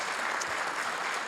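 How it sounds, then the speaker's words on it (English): A short burst of dense audience applause at a volunteer awards ceremony, steady close clapping from many hands throughout. "So let's give her a round of applause."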